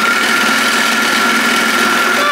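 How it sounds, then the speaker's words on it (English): An overlocker flatlocking a knit sweater seam runs at a steady, loud mechanical whir with a sustained high whine, sewing continuously and close up throughout, with no pauses and no voices. "Now, I don't think my overlocker likes that."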